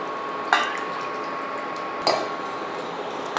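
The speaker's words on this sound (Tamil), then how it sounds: "குழம்பு வந்து நல்லா கொதிச்சிடுச்சு" Egg curry bubbles and simmers steadily in a pan, with a couple of louder pops breaking the constant low gurgle.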